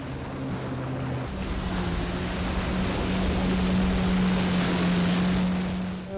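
A jet ski runs on the sea off Tangier, Morocco, giving a continuous engine drone whose pitch shifts once, mixed with loud rushing wind and water noise throughout, with no voices.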